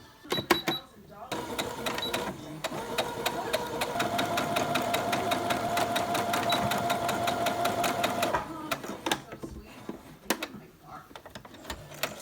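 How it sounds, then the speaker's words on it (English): A sewing machine stitches a fabric seam for a scrunchie in one long, steady, close burst of rapid mechanical clatter, with a few short stop-start bursts before and after. "I'm basically just going to sew that, sew this seam now"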